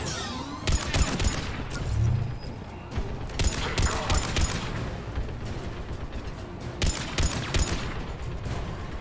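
In Mass Effect 3, a powerful gun fires in sharp repeated shots and clusters during a firefight, loud and close, with mechanical clatter and background combat noise between the shots.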